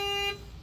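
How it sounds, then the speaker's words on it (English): A car alarm goes off nearby, set off by accidentally sitting on the keys: a loud steady electronic tone with bright harmonics for about a third of a second, then cutting off into quiet outdoor background. "somebody just started their car alarm"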